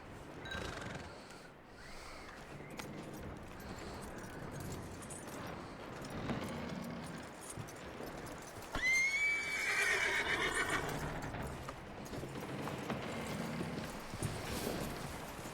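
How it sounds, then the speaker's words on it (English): A horse in the Red Dead Redemption 2 video game gives a clear rising whinny partway through, amid soft hoof clip-clops, snorts and quiet outdoor ambience. "That looks like a decent horse."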